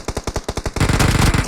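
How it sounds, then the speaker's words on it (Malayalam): Automatic gunfire in a video game: a rapid burst of sharp shots, then a louder, denser burst of fire, close and alone with no talking. "ഇതില് വെടിവെക്കുന്നു."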